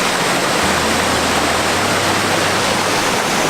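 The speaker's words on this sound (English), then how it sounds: "there's the waterfalls" Ladybath Falls on Mount Buffalo pours with a loud, continuous broadband rush, steady and close, with no voices over the roar.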